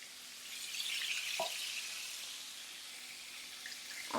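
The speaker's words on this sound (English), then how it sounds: "I'm just gonna dump my black beans in" Black beans hit a pot of melted butter and settle into a soft, steady sizzle, a continuous hiss with a couple of brief clatters from stirring or the pot.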